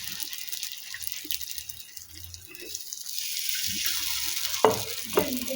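Spoonfuls of masala paddu batter hit hot oil in a paddu pan, giving a faint crackling sizzle that rises in the second half, with soft clinks of a spoon against the pan.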